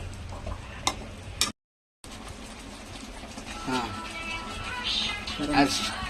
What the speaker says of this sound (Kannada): ಈ ಥರ ಆಯಿಲ್ ಹಾಕ್ಬಿಟ್ಟು ತಿರುಗಿಸ್ತಾ ಇರಬೇಕು